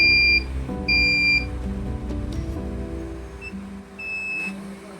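Electronic buzzer alarm from a poultry-house monitoring system beeping in short bursts, two long tones then a shorter one, fairly loud over a low background hum.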